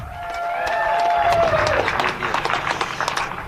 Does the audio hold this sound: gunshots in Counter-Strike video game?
no